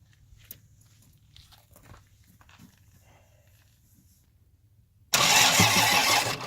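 A Kubota tractor engine is cranked and started: a low, quiet hum runs for about five seconds, then a loud, close, steady roar suddenly takes over and continues to the end.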